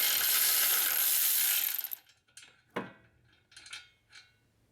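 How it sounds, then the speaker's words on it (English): An electric ratchet spins loose a brake caliper bolt on a Honda CR-V, a loud steady mechanical whir for about two seconds, followed by several short metallic clicks and clanks from the bolt and tool. "now I'm going to use our electric ratchet to remove the bolt."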